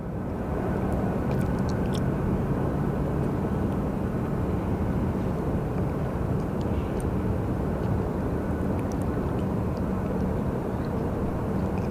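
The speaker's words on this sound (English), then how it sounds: "we do have a Southwest flight that is getting ready for a departure" A Southwest Airlines jet prepares to depart at Phoenix Sky Harbor, giving off a steady, loud, broadband engine roar that holds level throughout, with no talk over it.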